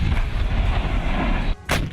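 Artillery bombardment in the Ukrainian city of Artemovsk, heard as a continuous heavy rumble of fire that cuts out briefly before a sharp loud burst near the end.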